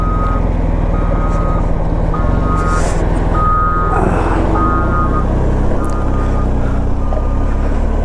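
A truck drives along a rough, dusty mountain road near Singla Pass in Zanskar. Its heavy, continuous rumble is mixed with wind buffeting, and a faint beep repeats at regular intervals throughout.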